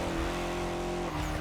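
Lancia Delta HF Integrale racing along a coastline track in The Crew Motorfest, a steady loud engine drone with a sustained tone that shifts briefly near the end, close and continuous, no talk.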